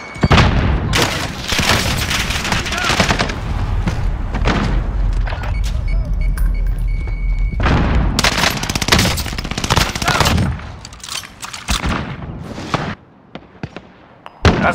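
Frag grenade blast and heavy gunfire in Call of Duty Warzone on Rebirth Island, a long stretch of loud booms and rapid shots, with several big bursts and a quieter gap near the end.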